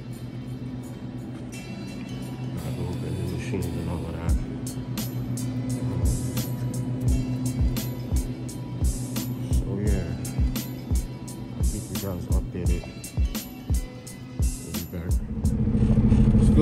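Traffic on the George Washington Bridge heard from inside a moving truck: a steady engine drone with repeated clattering thumps from joints in the road, growing louder toward the end.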